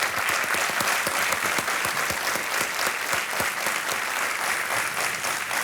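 Studio audience applause on a Hindi TV quiz show, a steady, dense wash of many hands clapping continuously throughout, loud and close, with no voices over it.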